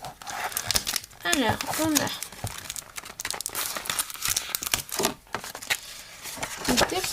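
Packaging crinkled and torn open by hand, with crisp rustling and crackling bursts running throughout while someone speaks French over it.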